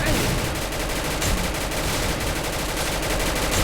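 Rapid grenade-launcher fire and explosions from the Free Fire battle game, a dense, continuous barrage of blasts filling the whole stretch at steady loudness, with no talk.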